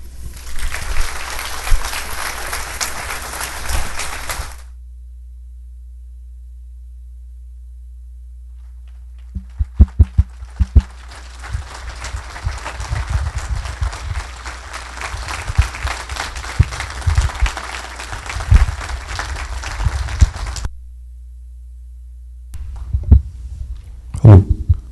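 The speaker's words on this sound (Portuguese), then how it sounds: "Obrigado, gente, pelos aplausos." Audience applause at a talk on blood pressure and magnetism, sounding as two bursts of clapping with a silent gap between them, then a short third burst at the end.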